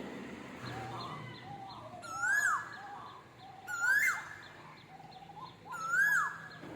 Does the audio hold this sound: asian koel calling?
yes